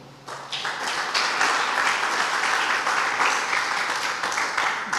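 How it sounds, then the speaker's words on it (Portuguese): Church congregation applauding during a sermon, the clapping starting abruptly and swelling into a full, even round of applause that carries on without talk. "Vamos aplaudir o Senhor?"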